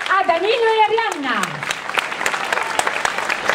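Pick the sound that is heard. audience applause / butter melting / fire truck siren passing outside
audience applause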